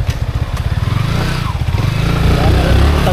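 Motorcycle engine chugging steadily with a rapid low pulsing beat, loud and close throughout on a farm, with people talking over it.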